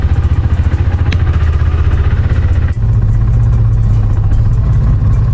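A KTM RC390 sport motorcycle engine runs loud and close, a steady idle rumble that shifts to a smoother, higher drone halfway through as the bike sets off.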